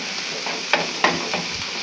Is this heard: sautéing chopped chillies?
yes